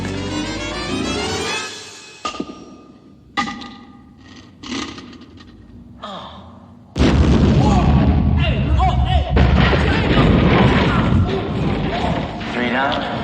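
A grenade explosion in a comedic TV cop show: after some brief thumps and clatter, a sudden loud boom erupts into a long, dense roar of blast and debris that carries on for several seconds.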